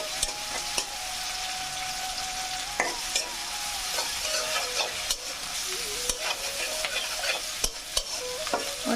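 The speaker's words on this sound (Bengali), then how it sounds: "আমি কড়াইতে তেল দিয়ে দিলাম, পেঁয়াজ, কাঁচামরিচ, লবণ দিয়ে পেঁয়াজটা একটু ভালোভাবে আমি ভেজে নিব।" Onion, green chili and salt fry in hot oil in a wok, a constant close sizzle broken by repeated scraping and clacking of a stirring spoon.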